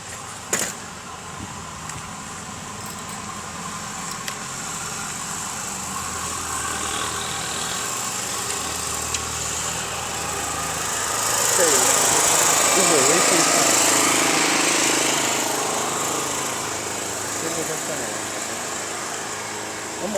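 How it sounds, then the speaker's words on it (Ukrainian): A small excavator works in Petropavlivska Borshchahivka, its engine a steady mid-distance drone that swells louder for a few seconds before easing back, with people talking over it. "Ось такий маленький працює екскаватор."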